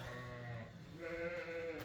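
Ewes bleat in a wavering, nasal voice, one call sliding into another, fairly close and quiet, with no talk.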